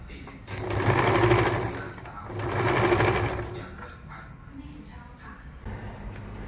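A sewing machine stitches webbing onto a slippery-fabric drawstring shoulder bag, running in two steady bursts of rapid mechanical whirring with quieter handling sounds between, close to the microphone.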